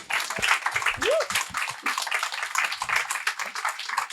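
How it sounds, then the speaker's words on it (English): Scattered audience clapping breaks out at a speech, moderate and uneven hand claps spread through the room, mixed with a brief rising vocal whoop and faint crowd murmur. "Round of applause for that."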